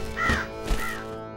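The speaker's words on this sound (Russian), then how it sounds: "Стрёмные птицы присутствуют." Crows in an animated amusement park setting at night give two harsh caws about half a second apart, fairly close and clear, with no talk over them.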